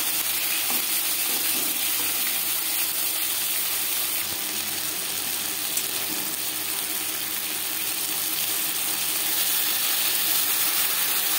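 Pieces of boal fish fry in a pan of oil with a loud, continuous close-up sizzle and fine spitting crackles that stay steady throughout.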